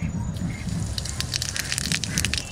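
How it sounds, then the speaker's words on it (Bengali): Cumin seeds tempering in a little hot oil in a home kitchen pan before duck meat goes in, a busy crackling sizzle with quick bright pops that grows denser over a couple of seconds. "জিরে ফোড়ন দেবো"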